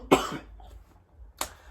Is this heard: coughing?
yes